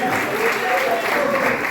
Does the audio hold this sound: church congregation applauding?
yes